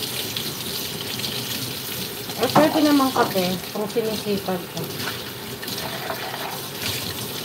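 Water runs steadily from a kitchen tap and is poured while a cake is being made, a continuous close gush and splash throughout, with people talking over it partway.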